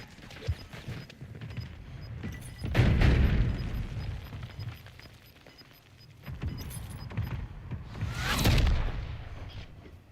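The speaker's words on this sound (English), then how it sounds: "Friendly mortar strike inbound" Mortar strike explosions in Call of Duty Modern Warfare III, heard as two separate distant booms several seconds apart, each a rumbling swell that fades, over a quiet background of faint battle noise.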